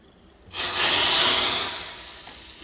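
Whole spices, ajwain, cloves and bay leaf with chilli powder hit hot oil in a tempering for Gujarati dal dhokli, a loud sudden sizzling hiss that swells and then slowly fades, with no talk over it.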